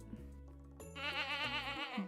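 A goat in the Stardew Valley Expanded farming game gives one drawn-out, wavering bleat, close and clear over quiet background game music.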